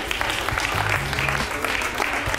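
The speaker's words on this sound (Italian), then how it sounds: "Applauso. Applauso." Audience applause at an Italian cooking-competition event, a dense wash of clapping with some crowd noise and a low voice or tone underneath, sustained and steady throughout.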